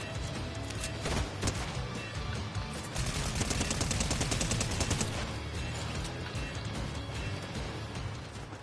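Small pistol gunfire in a battle-royale video game, rapid dense shots layered with other weapons firing into a continuous loud barrage of cracks and rattles with no clear pauses.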